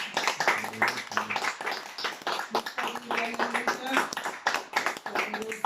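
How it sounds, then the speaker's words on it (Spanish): Church congregation applauding during a Spanish-language service, irregular clapping bursts mixed with voices and shouts throughout. "Dale una ofrenda de palmas."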